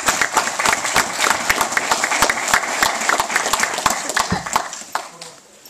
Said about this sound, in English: So it was a very big round of applause for him.